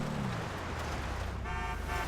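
A Coquette sports car, the game's Corvette stand-in, in GTA Online, with a steady engine drone and a brief horn-like tone near the end, heard alone over two seconds.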